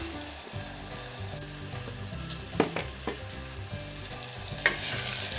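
Radish curry spices frying in a pan sizzle steadily while a spoon stirs them, scraping and clinking now and then against the metal, close and alone without any voices.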